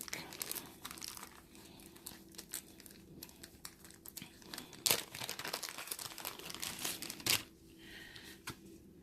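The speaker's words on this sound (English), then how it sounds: "Hold on as I sleeve up these cards real quick." Dragon Ball Super trading cards slide into plastic sleeves, giving soft crinkling and rustling with a few sharper crackles, close and quiet, with no talk.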